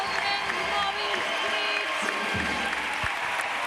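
Festival crowd at the Sant Pere celebration in Reus, a dense, steady wash of clapping and crowd noise that holds at an even level throughout, with voices mixed into the din.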